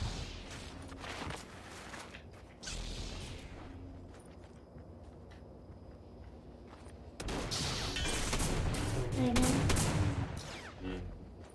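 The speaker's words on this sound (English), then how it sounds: "Oh, he's shooting at you, he's shooting at you." Gunfire in a Fortnite match: rapid bursts of shooting sit in a noisy, fairly quiet mix and swell louder toward the end, with the crackle of shots running continuously.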